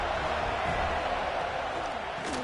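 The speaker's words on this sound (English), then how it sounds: "This crowd trying to make life miserable for this offense." Stadium crowd noise in an NCAA college football video game, Georgia vs Florida State, forms a dense, continuous roar of massed voices with faint cheering swells.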